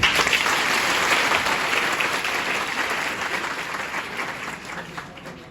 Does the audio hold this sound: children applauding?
yes